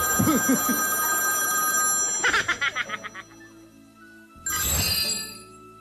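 A telephone rings with a bright electronic bell tone, a rapid trill burst in the middle followed by another ring near the end, with a voice talking briefly at the start in a Filipino TV comedy setting.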